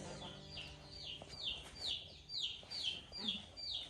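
Chickens in a spring farmyard coop give a run of repeated high chirping clucks, several calls in a steady rhythm, fairly close, with some low rumbling noise beneath.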